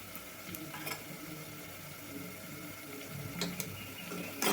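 Ginger garlic paste frying with onions in a pan makes a soft continuous sizzle, with light stirring scrapes and a few sharp taps from a spoon, fairly quiet and close.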